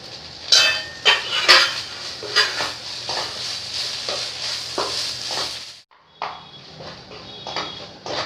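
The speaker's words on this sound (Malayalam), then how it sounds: "നമുക്കിതൊന്ന് നന്നായിട്ട് മിക്സ് ചെയ്തെടുക്കാം." A beef cutlet mixture is stirred and scraped in a metal pan, with clinking utensil strikes and a steady hiss running underneath. It is close and fairly loud, with a brief pause before the stirring resumes.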